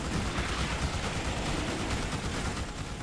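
In the video game Starship Troopers: Terran Command, dense, rumbling gunfire and muffled blasts fill the scene continuously, a noisy wash of distant shots with no clear pauses.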